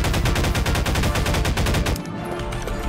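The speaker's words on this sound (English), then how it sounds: "I'm just shooting with the bullets!" Rapid automatic gunfire in a video game, a loud, dense burst of shots lasting about two seconds before cutting off abruptly into a quieter tail.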